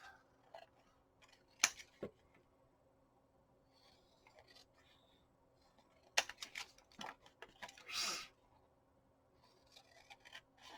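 Scissors trim a fabric policy envelope bag in a quiet room, with a few sharp, separate snips and soft handling rustles scattered across a mostly still background.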